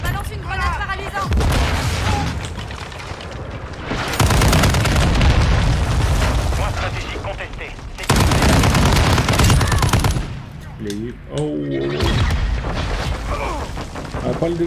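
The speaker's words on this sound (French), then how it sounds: "Je balance une grenade paralysante." Loud bursts and blasts in a Call of Duty match on the Shoot House map, sharp explosive booms and gunfire in heavy repeated waves, with a voice speaking briefly in between.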